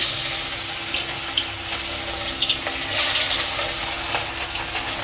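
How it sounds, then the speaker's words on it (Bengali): Rohu fish sliding into hot oil in a home kitchen, a steady broadband hiss and crackle of frying that holds throughout at close range, with a brief louder surge midway and no voices. "বন্ধুরা আমার তেলটা গরম হয়ে গেছে, এবার আমি মাছ দিয়ে দেব।"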